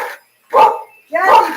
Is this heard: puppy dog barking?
yes